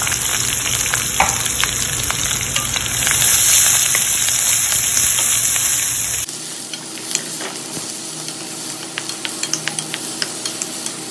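Onion fries in a hot pan for a crab and glass noodle dish, giving a loud, steady sizzle with stirring. The sizzle then drops to a quieter crackle with scattered pops.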